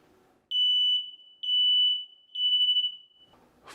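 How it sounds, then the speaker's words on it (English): Smoke detector sounding during a test, three long piercing high-pitched beeps in an even pattern, each about half a second long, close and loud in an otherwise quiet room. "Smoke detectors are required in the bedroom and just outside the bedroom."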